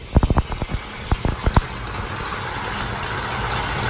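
Water runs from a cold mains tap in a house. A few sharp knocks and splashes come first, then a steady rushing flow builds and continues, close and moderately loud.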